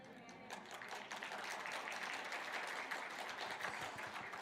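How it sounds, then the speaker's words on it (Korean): A church congregation claps together during a sermon, a steady dense wash of applause sustained throughout at moderate distance with no speech over it. "다 박수 치는데 왜 집이만 안 쳐?"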